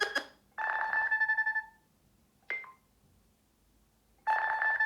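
A Nothing Phone (2) ringtone plays as short, bright electronic chime phrases separated by silent gaps, clear and alone.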